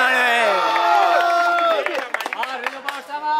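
A crowd at a calisthenics challenge event cheers and shouts loudly, with overlapping voices and whoops swelling, then breaking into scattered claps and cries.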